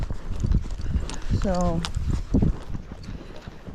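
A Tennessee Walking Horse mare walks downhill on a trail, her hooves clopping in an irregular rhythm close by while someone talks over them and a brief horse nicker sounds in the middle.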